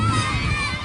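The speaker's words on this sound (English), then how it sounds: "Pope John Junior Lions cheerleaders going at it and cheering the Lions on this afternoon." Pope John Junior Lions youth football cheerleaders cheering their team on at an afternoon game, with a brief burst of shouting voices and crowd noise.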